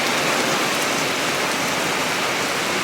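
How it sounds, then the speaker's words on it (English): Steady heavy rain pours down in a big storm, a dense, unbroken hiss of drops on surfaces that stays loud and even throughout, with no voices. "Raindrops."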